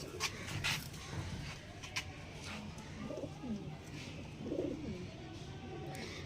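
A pair of Andhra pigeons, male and female, cooing softly at a distance amid background bird noise, with a few faint knocks and a low voice at times.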